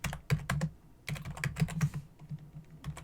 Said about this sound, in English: I'll type in clear